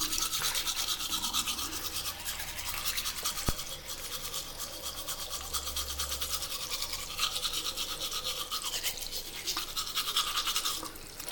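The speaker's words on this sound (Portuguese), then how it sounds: "Tá escovando? Papai também." A toothbrush scrubs teeth with a steady, close, rapid bristle rasp that continues throughout, plus one faint click partway through.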